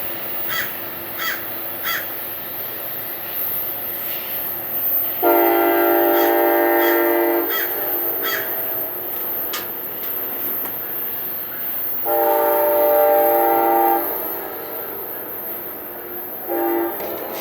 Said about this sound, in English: here comes our train 770